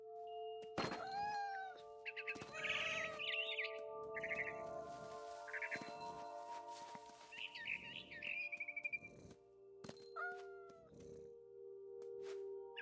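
A cat meows in the video game What Remains of Edith Finch, with several short cries mixed among frightened bird chirps and tweets over a steady game soundscape, fairly close and with no talking.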